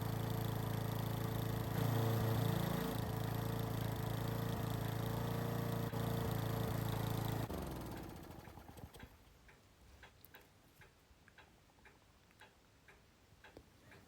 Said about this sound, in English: This is a 4-stroke lawnmower that fires on wasted spark, which is perfect to test it.